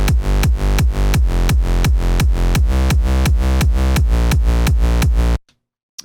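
UK hardcore rave bass line from a Harmor synth locked to a punchy kick drum, a loud steady run of rapid pulsing hits for about five seconds before cutting to silence.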